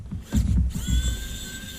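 A rechargeable precision electric screwdriver whirs with a steady high motor whine, close by, over a couple of soft handling bumps.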